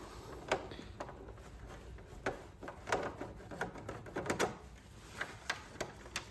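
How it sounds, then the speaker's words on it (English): A Phillips head screw on the chain guard of a Batavus Fier / Raleigh Stride / Winora FUB bicycle rear wheel being undone, giving quiet irregular clicks and ticks of the screwdriver, close up with no talk. "it's fastened with a Phillips head screw just around here, which we'll have to undo"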